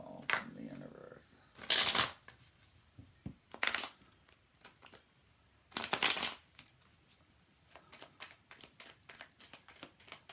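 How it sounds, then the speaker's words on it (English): Tarot and oracle cards being shuffled in a bonus reading, bursts of crisp riffling and flicking at close range, with bridging clatter and quieter card taps between them. "I can't just stop and mid-shuffle."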